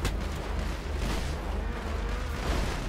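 Sustained gunfire in GTA roleplay on the Star Town server. Dense, continuous volleys of shots crackle loudly for a few seconds, with overlapping bursts and booming echoes and no clear pauses.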